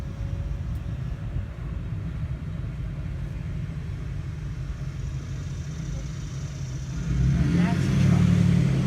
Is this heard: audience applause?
no